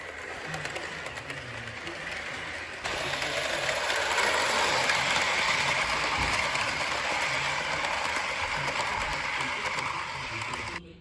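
A Bachmann Southern Pacific Daylight GS-4 model train pulls away with its Daylight passenger set, giving a faint steady mechanical whir and rattle of wheels on track that grows a little louder after a few seconds, heard close with no talk.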